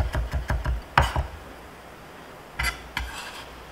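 A knife minces ingredients for Thousand Island dressing on a cutting board, with a quick run of sharp knocking chops, a pause, then a few more taps, close and distinct without talk.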